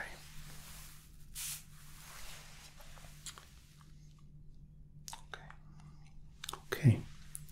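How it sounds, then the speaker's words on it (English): A few short hissing bursts of setting spray during a hot towel shave barber roleplay, quiet and close, with soft whispering and light handling noises between them. "And now just a setting spray."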